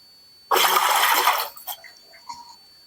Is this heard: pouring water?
yes